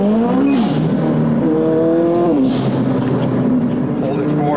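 A Ferrari F8 Tributo engine revs hard at full throttle, its rising and falling harmonic whine loud and close, with a few gear-like steps in pitch, while people talk over it.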